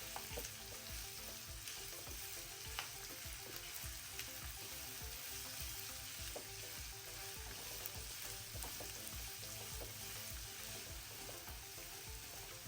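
Onion and curry leaves fry to golden for a mushroom pepper fry, giving a soft, steady sizzle with light stirring. The sound is faint and continuous, with no voices.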